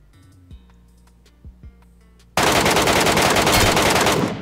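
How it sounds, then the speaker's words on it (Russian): Sustained automatic gunfire from PUBG Mobile's Metro Royale mode bursts in loud and dense after a few faint clicks and thuds, continuing as a steady rapid volley to the end. "Я хотя бы отсюда дотягиваюсь по нему стрелять."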